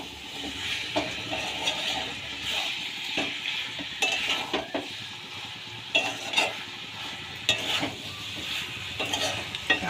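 Cabbage with potatoes being stirred in a pan with fried onions, a steady sizzle of frying under repeated scraping and clinks of a spoon against the pan, close by, no talking.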